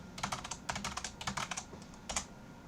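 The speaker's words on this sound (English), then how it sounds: "Type in our password again." A password is typed on a computer keyboard into a terminal during an SSH login: quick clusters of light key clicks in irregular bursts, close and clear, with brief pauses between groups.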